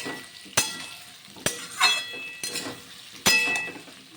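Chunky potato pieces fry in a pan with an onion-garlic spice paste. A steady sizzle is broken by several sharp scrapes and clinks as a spatula stirs, at close range with no talking.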